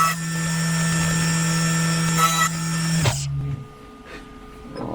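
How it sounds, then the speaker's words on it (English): A milling machine cutting a metal injector bung gives a steady, loud high-pitched whine with a low hum beneath, then spins down abruptly near the end, leaving a quieter hum and faint clicks. "So I'm going to go ahead and just mill this down."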